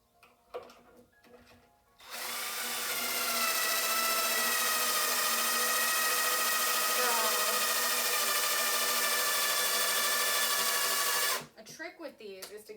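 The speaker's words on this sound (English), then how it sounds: "A trick with these is to get the drill going up to speed before you like get close to the wood so it doesn't have as hard of a time" A power drill drives a screw into wood at a carpentry bench, a loud sustained whine of about nine seconds that ramps up and holds steady, with brief knocks and handling noises before and after.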